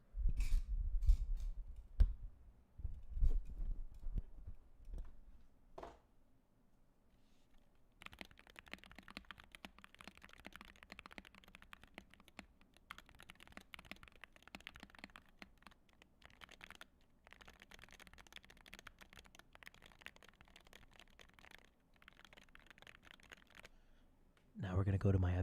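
Typing on mechanical keyboards during a sound test, a fairly quiet rapid stream of key clicks and clacks, preceded by a few louder knocks and handling sounds.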